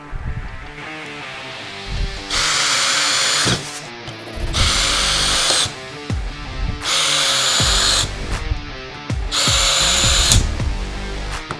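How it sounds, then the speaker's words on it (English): A DeWalt cordless drill with a 5-amp-hour battery, set to speed 1, whirs loudly in four sustained bursts separated by short pauses and clunks as the bit is worked. "Up next, the drill. Bit for the DeWalt. 5-amp hour battery, still fully charged, speed 1."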